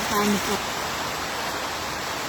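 Heavy rain falls in a steady, dense broadband hiss that continues throughout. A brief faint sound rises at the start.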